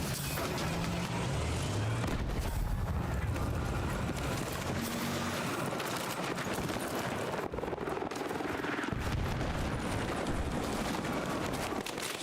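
Gunfire in a video game, dense bursts of shots and explosions layered over rumbling in-game engine noise, loud and continuous throughout.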